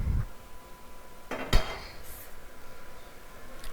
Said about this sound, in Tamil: இப்போ இதையும் அதே பிளேட்டுக்கு மாற்றி வச்சுக்கிறேன்.